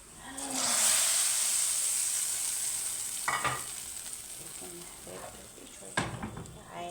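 Garlic sizzling in a pan as chopped coriander is added, a loud hiss that swells early then settles into steady frying with clattering stirs, while a person talks over it.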